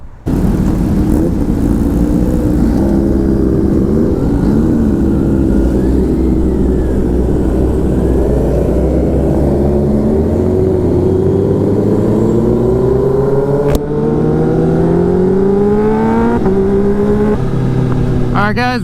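A big group of sport motorcycles, including a Kawasaki Ninja H2 and a turbocharged Suzuki Hayabusa, rides together. Loud close engine drone rises and falls through shifting revs, with a sharp click partway through.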